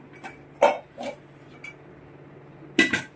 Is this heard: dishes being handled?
yes